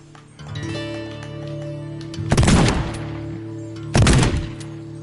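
Two loud bursts of rapid gunfire in the Wild West–themed destruction game Teardown, each lasting under a second, cutting through a steady droning in-game tone.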